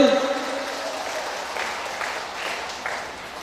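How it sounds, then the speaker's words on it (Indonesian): An audience at a Qur'an memorization school graduation in Angkasa Pura village applauds steadily, a dense continuous patter of clapping from a gathered crowd, following a brief voice at the start. "Tepuk tangan dulu hadirin."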